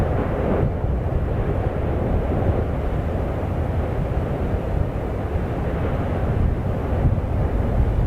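A nuclear explosion effect from the video game Halo Reach roars as a steady, dense rumble, like rushing water or a sustained blast, loud and unbroken throughout without any voices.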